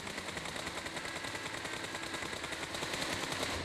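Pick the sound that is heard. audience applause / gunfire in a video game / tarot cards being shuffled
gunfire in a video game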